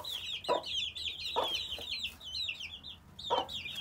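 Hens in a henhouse cluck in a continuous, fairly close chatter, with a few louder cackling bursts spaced through it and no talking.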